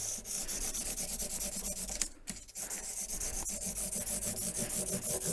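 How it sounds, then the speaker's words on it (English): A 1976 Martin D-28 guitar neck being rubbed with 1200 grit sandpaper: a steady, close, hissing scrape with quick back-and-forth strokes and a brief pause midway. "So the other piece of sandpaper we'll do is a piece of 1200."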